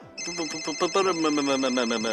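A melodic phone ringtone plays continuously, close and clear, with repeating bright tones pulsing throughout.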